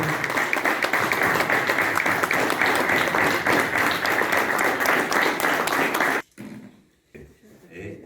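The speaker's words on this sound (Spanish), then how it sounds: "Fuerte el aplauso, fuerte." Strong applause at a talk honouring war veterans, dense loud clapping from many hands for about six seconds, then cutting off abruptly into quiet room noise with a few stray sounds.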